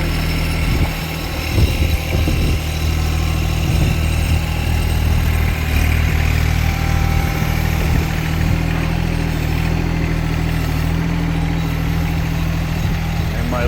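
A Kymron XH20D mini-excavator with a Yanmar diesel engine runs steadily while turning, its loud, low throbbing drone continuous and close, with wind buffeting the microphone and someone speaking briefly over it.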